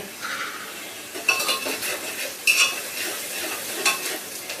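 Spices (masala) with salt are stirred and sautéed in a pan. A metal spoon scrapes and clinks against it in quick strokes over a soft sizzle. The sound is close and clear, with no talking.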